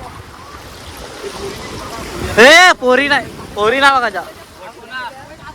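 Sea waves roll onto Nagaon beach at Alibag as a steady rushing wash, with people shouting and talking excitedly over the surf.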